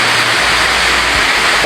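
Water pours heavily at Gatundu Waterfalls, a loud, constant roaring rush that fills the whole moment without pause.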